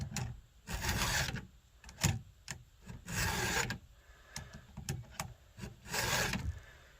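A chainsaw chain is sharpened by hand with a file out in the field, giving repeated rasping strokes in an uneven rhythm with short pauses between them, close and fairly quiet, with no voices.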